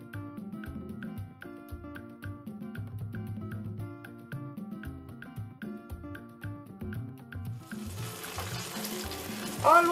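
Fish kebab brushed with peri peri seasoning and oil, cooking under the grill: a soft sizzle swells near the end beneath steady background music.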